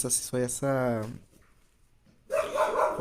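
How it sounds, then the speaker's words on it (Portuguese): A dog barks twice up close, loud sharp yelps, and later a further rougher bark, while the dog's sounds run alongside someone speaking nearby. "Aí o cachorro começou a latir aqui, como sempre."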